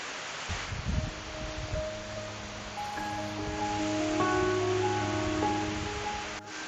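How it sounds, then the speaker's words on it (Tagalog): A steady rush of falling water from Sangbay Ni Ragsak Falls in Ilocos Sur roars continuously at an even level, with faint tonal hums in the background. "pakinggan nyo lang yung tunog ng waterfalls"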